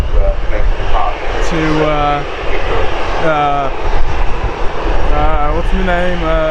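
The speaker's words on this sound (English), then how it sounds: "The aircraft is now to be making its way down to the end of the runway to make the departure." Aircraft engine droning steadily as a plane taxis toward the runway for departure at Manchester Airport, heard from a distance beneath a person talking throughout.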